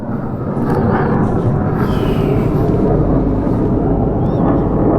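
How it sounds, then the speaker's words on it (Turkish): A loud, continuous low roar of an airplane passing overhead, steady and rumbling throughout with no talking. "Bu arada çok fazla uçak gürültüsü var."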